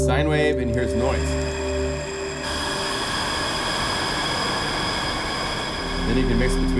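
An OmniPulse 3 synthesizer shifts from a steady buzzing tone into its noise oscillator, a loud, even hiss that holds for several seconds before the tone returns.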